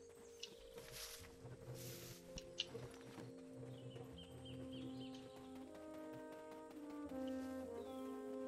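Horse hooves clip-clopping in the Black Desert Online video game, a steady rhythmic trot at moderate volume under layered game music and ambient tones, no talking.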